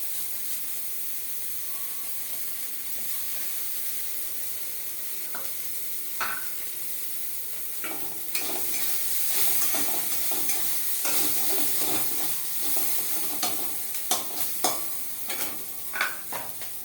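Onions browning in oil with grated ginger added for ghugni, a continuous sizzle that swells louder partway through, with spatula scrapes and clinks growing frequent toward the end.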